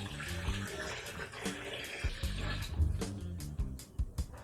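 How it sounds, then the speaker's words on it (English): Water pours steadily into a pot of chicken for Korean ginseng chicken soup (samgyetang), a continuous splashing gush with a few clunks and knocks close by. "let's add some water"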